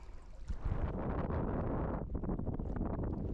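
Blustery, cold wind on a lake shore roars against the microphone in strong gusts, with a constant low rumble that surges after the first half second, with no one speaking.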